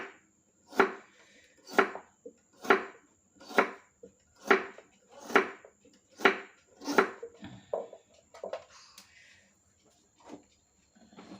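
Sugarcane stalk is chopped finely with a blade, about eight evenly spaced sharp chops followed by a few softer irregular cuts, close and clear; a voice speaks faintly underneath.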